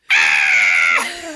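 A voice imitates a little girl's loud scream in a haunted maze at Six Flags Magic Mountain: a single sustained, piercing shriek lasting about a second, then trailing off into a lower tone.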